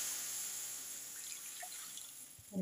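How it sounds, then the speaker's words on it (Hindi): Water poured into a heated pan while making chana dal pitha with rice flour, a faint, steady watery hiss that runs for a couple of seconds with no talking. "और इसमें पानी डाल देते हैं"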